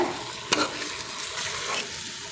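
Prawns and plantain sizzle steadily in a pan while a utensil stirs them, with one sharp scrape near the start and softer scraping and bubbling crackle throughout.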